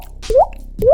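A foley artist's voice imitates water drops, two short rising plops, each a quick upward-bending pop, close and clear against near silence.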